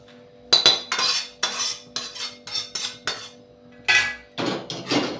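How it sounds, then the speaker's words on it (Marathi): Grated coconut being dry-roasted in a pan for a village-style Maharashtrian masala, heard as a run of sharp, close scraping and clattering strokes of a utensil against the pan, repeating in uneven bursts with no talk. "मी हे खोबरं भाजून घेते खोबरं पटकन भाजलं जातं"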